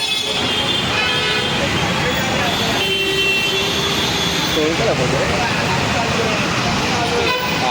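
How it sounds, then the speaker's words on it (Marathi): Dense road traffic roars continuously as several car horns toot, some long and sustained, with voices audible beneath the din. "ट्रॅफिक तर खूप आहे."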